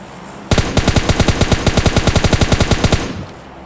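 Heavy automatic gunfire in the mobile shooter PUBG Mobile Lite: one loud, close burst of about twenty rapid rounds lasting a few seconds, then silence.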